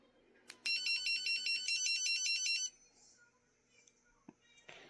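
A dog training collar remote gives off a rapid, warbling electronic tone much like a cell phone ringtone, loud and bright for about two seconds, then fades into quiet room sound with faint handling noise and a little speech.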